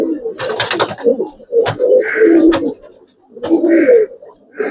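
Giribaz and coloring pigeons in a loft coo repeatedly at close range, their soft throaty calls coming in bursts while people talk nearby.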